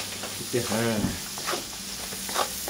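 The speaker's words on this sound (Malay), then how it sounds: "kita gorengkan bawang putih, bawang merah yang telah kita haluskan" Ground garlic and shallots sizzle steadily in a wok, with a brief scrape of stirring. The frying hiss is close and constant, and a voice is faintly heard in the background.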